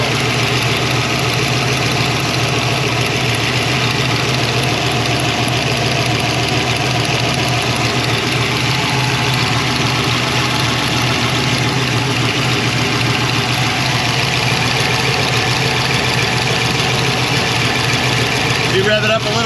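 A turbocharged 363 cubic-inch small-block Ford V8 in a Notchback runs steadily at a loud, lumpy idle on its first fire-up, its drone constant throughout with people talking over it.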